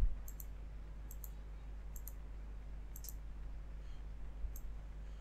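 A computer mouse gives sharp, faint clicks in quick pairs like double clicks, about five of them spread over a few seconds, over a low steady hum with no talking.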